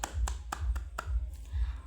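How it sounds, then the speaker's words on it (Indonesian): Students in a classroom clapping for their classmates, a few sharp, evenly spaced claps that sound sparse and fairly quiet. "Nah tepuk tangan untuk kalian semua."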